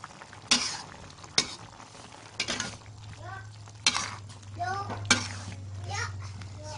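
Squid being stir-fried in a pan, with soft sizzling and scattered clinks of a utensil against the pan, fairly quiet, while someone talks intermittently in the background.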